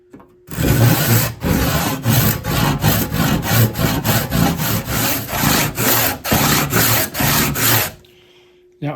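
A handsaw cuts a kerf into a wooden axe handle, with about a dozen loud, close, rhythmic rasping strokes back and forth that stop abruptly near the end.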